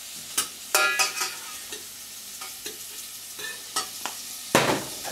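Carrots and fennel glaze in a pan with a faint sizzle, broken by scattered clinks and scrapes of stirring.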